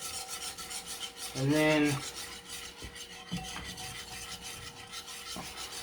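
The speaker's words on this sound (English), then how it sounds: "just keep whisking until there's no clumps" Gravy and milk being whisked in a pan, a steady rasping scrape of the whisk close by, briefly covered by a loud tonal burst with a few soft knocks after it.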